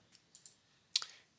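Computer mouse clicking an on-screen button during an online exhibition application: a few faint light ticks followed by a sharper, crisp double click, close and quiet, with no talking.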